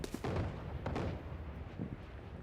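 A grenade blast in Valorant, a heavy booming burst followed by a couple of further muffled thuds and a decaying rumble, loud and close.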